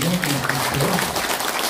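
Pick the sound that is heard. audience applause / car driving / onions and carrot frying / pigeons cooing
audience applause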